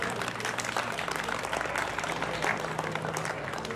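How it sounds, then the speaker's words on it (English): Audience at a senior queens pageant during a community canal days festival breaks into sustained applause, a dense steady clapping throughout with faint crowd murmur. "A round of applause for everyone."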